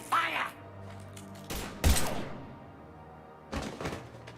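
Gunfire in the video game Mass Effect 3 during the retaking of Omega comes in several sharp bursts and thuds separated by quieter stretches, with a character voice briefly at the start.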